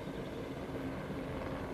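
Helicopter in ARK setting down in a breeding pen: a steady, continuous rotor and engine drone, close and even, with no other sounds over it.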